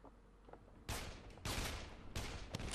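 Bursts of gunfire in Dead Island Definitive Edition crack out in three or four loud volleys, separated by short quieter gaps, with no talking.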